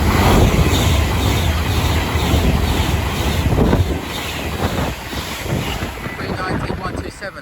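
A West Coast train from Manchester Piccadilly to London Euston runs through Watford Junction, a loud, steady rumbling roar that fills the whole clip and eases slightly toward the end, with wind buffeting the microphone.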